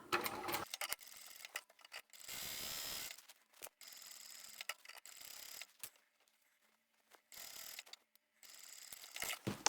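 A domestic sewing machine stitches a small rounded pouch in short, slow bursts, its fast buzzing whir starting and stopping several times with brief quiet gaps between runs as the fabric is guided around a curve.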